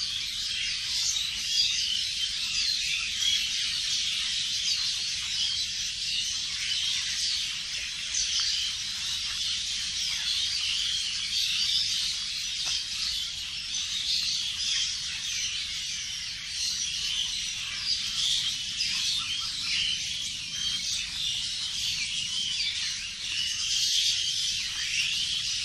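Dense, continuous chorus of small birds chirping around a village temple amid greenery, a steady bright twittering wash that holds evenly for the whole stretch with no voices.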